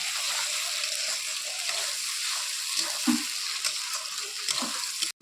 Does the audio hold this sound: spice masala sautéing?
yes